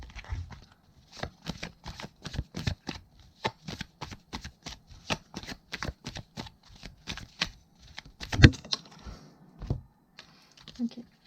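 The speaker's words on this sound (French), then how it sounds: "Je ne sais plus mélanger mes cartes, ça y est." Tarot cards being shuffled by hand in repeated riffling bursts, a quick run of crisp flicks followed by pauses, close and fairly soft, with a voice heard briefly.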